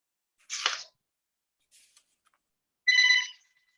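During a town planning board meeting, a mobile phone sounds a short, bright electronic ring burst near the end, preceded by a brief sharp noise, in an otherwise quiet room.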